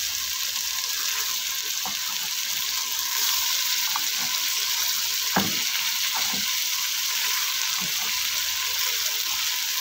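Tomatoes fry alongside chicken pieces in a pan, giving a continuous close sizzle with scattered clinks and scrapes of stirring and one sharper knock partway through.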